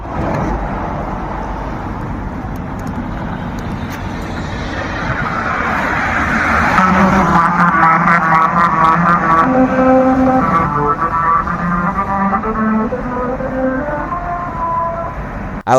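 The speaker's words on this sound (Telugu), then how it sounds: "కారు రోడ్డు మీద దంచుకొని పోతుంటే మ్యూజిక్ వస్తుంది" A car drives over the musical road in Mumbai, its tyre rumble building before ridges in the surface ring out a clear sequence of pitched, tune-like tones over the ongoing road noise.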